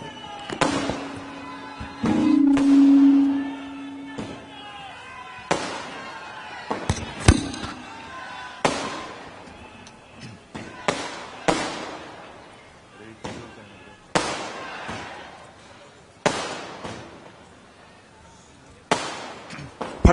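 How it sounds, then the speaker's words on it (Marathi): Firecrackers bursting behind the stage at a political rally in Pune, a string of sharp loud bangs at irregular intervals, each with a short echoing tail, with a brief sustained tone near the start. "फटाके मागच्या बाजूला जे फटाके वाजतात ते कृपया थांबवावे"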